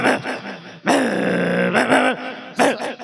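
A man mimics a male Mudhol dog growling: rough, throaty, snarling bursts of varying length, loud and close.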